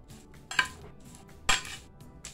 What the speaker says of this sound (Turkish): kaşıkla karıştıralım